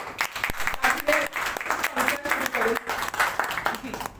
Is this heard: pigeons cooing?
no